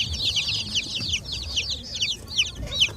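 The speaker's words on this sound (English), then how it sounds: "we just picked up our chicks from East Anglia" Twenty-five Barred Plymouth Rock chicks peep continuously in a box, a dense flurry of high, close chirps over a low rumble of handling and car noise.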